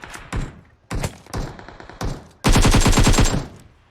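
Gunfire in PUBG Mobile: several short, loud bursts of automatic fire separated by brief pauses, then a longer sustained rapid burst at the end.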